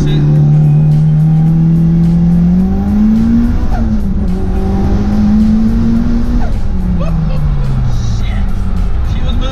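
A 2003 Mitsubishi Evo 8 making about 500 wheel horsepower launches hard from a brake-boosted start, its engine note climbing loud and close through the gears with tire noise, while a voice talks briefly over it.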